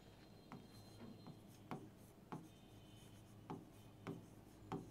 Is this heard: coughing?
no